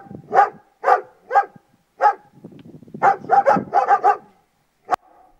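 Dogs under training bark in loud, close, separate yaps, a steady run of single barks followed by a quicker burst and one last sharp bark.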